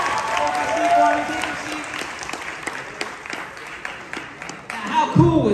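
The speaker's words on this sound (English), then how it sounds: "Give him one more round of applause as he has a seat." A university hypnosis show audience applauds a volunteer returning to his seat, steady crowd clapping throughout with a speaker's voice over it, rising again at the close.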